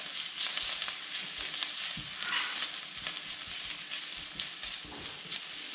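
Chicken fries in a pan with chopped ginger and garlic, giving a steady bright sizzle with scraping stirs and occasional soft knocks of the spoon against the pan, close and continuous with no voices.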